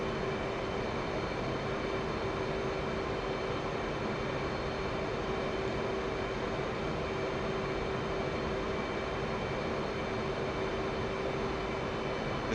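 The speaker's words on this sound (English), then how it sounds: "This is the ugliest carrier landing ever." Jet engine of a carrier-based aircraft in a flight simulator game, a steady loud droning roar with a constant tone throughout the landing approach, no voices.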